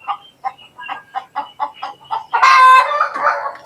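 Chickens cluck in a quick string of short, loud, near bursts, then a rooster lets out a long, strident crow that trails off into more clucking inside an abandoned house.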